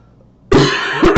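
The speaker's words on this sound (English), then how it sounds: "I'm still coughing and stuff." A person with a lingering cough lets out one sharp, loud cough after a brief quiet moment, followed quickly by two shorter coughs, close to the microphone.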